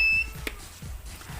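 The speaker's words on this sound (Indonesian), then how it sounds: "Ini bling blank atau apa namanya, error bip panjang." A Polytron Zeromatic washing machine with a fault gives a sharp electronic error beep, then repeated short beeping pulses, clear and close in a quiet room.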